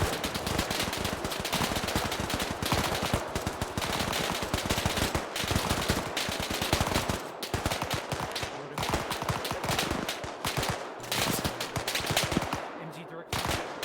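Sustained machine gun fire in the video game Arma 3, dense rapid bursts of loud gunshots filling the whole stretch with barely a break, close and relentless, with voices faint underneath.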